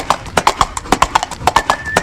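Horse hooves clip-clop in a quick, even rhythm close by, with a brief neigh near the end, used as a comedy sound effect in a Tulu stage skit.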